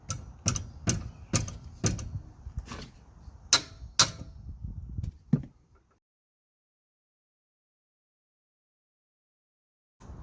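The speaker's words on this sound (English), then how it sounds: "we're gonna use a wrench to undo the nut" A wrench undoes a nut on the track rod of a Mitsubishi Outlander. About ten sharp, close metallic clicks come in quick bursts, then stop abruptly and leave silence.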